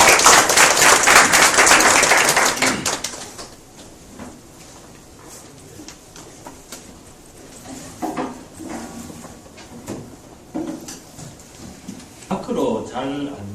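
A venture startup forum audience claps loudly for about three seconds before the applause dies away, leaving sparse clicks, shuffling and brief voices in the room.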